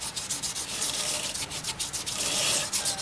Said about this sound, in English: now I'm wet sanding it with 1200 grit